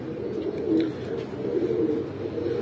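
Soft, low cooing of high-flyer pigeons murmurs on continuously, several birds overlapping into a steady warbling hum at moderate distance.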